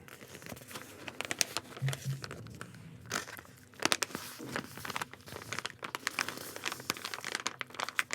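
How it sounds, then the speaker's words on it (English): Footsteps crunching through dry leaves at a Renaissance fair, a close, irregular series of crisp crackling steps that continues steadily throughout. "Crunching leaves underfoot."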